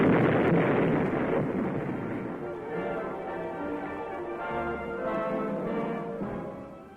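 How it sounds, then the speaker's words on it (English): A booby-trapped mortar shell charge set off from a safe distance, a heavy blast whose rumbling roar rolls and slowly decays over several seconds, loud and distant-sounding with no talk. "the charge is properly detonated from a safe distance"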